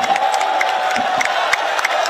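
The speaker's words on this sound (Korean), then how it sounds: "김종인 위원장님께 다시 한번 박수 부탁드립니다" A crowd at a Democratic Party candlelight rally claps and cheers together, with dense applause, scattered whoops and shouts close by, loud and continuous throughout.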